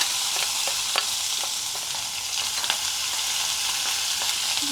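Crushed garlic, ginger and chili dropped into hot oil with neem leaves and asafoetida, sizzling in a steady bright crackle dotted with small pops and spoon stirring clicks.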